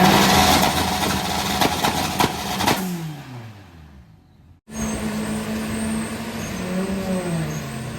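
A tuned VW Golf Mk5 with a 20vt engine at a drag strip revs hard and loud, then winds down, drops out briefly and comes back in a harsh, steady held rev like a launch limiter.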